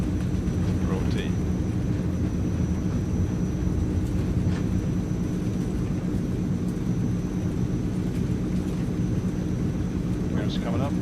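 Transall C160 cargo aircraft taking off in Microsoft Flight Simulator: a loud, steady broadband roar of propeller engines throughout, with brief voice fragments over it.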